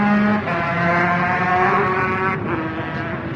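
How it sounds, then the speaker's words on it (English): Small Honda 125 racing motorcycles roar away at the start of a four-lap road race, a loud sustained engine drone with rising pitch, heard close and continuous. "now Paul Williams on the little 1-2 Honda gets the signal to start, and we're underway with a 4-lap race"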